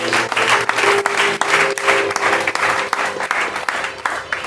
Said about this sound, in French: Clap for Jesus Christ of Nazareth.